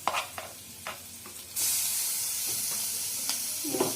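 Ginger, green chili and coriander paste hits hot oil in a pan with a few stirring scrapes, then a loud, steady sizzle that holds to the end with occasional clinks.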